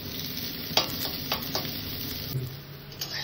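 Onions and green chillies frying in very little oil as they are stirred, a soft continuous sizzle with a few scraping stirs of a spoon, close by.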